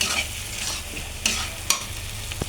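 Egg and tomato stirred and frying together in a pan, with a steady close sizzle and a few sharp scrapes and clacks of the spoon against the pan.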